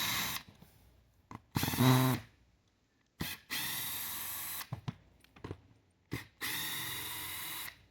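A power drill backs screws out of an existing roof vent during an iSOLAR ventilation retrofit, heard as several short, loud whirring bursts separated by pauses, with no talking.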